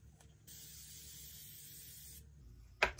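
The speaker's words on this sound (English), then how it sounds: "This continuous setting spray." Continuous makeup setting spray misting over a finished face, a soft even hiss lasting about two seconds, followed by a short sharp sound.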